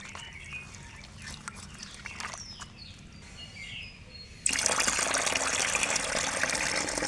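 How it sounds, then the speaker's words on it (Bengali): Cauliflower and garlic leaves are rinsed by hand in water, with soft splashing and trickling at first, then a sudden louder rush of running water that continues steadily to the end. "আমি এবার ফুলকি আর রসুনের পাতাগুলো ভালোভাবে ধুয়ে নিচ্ছি।"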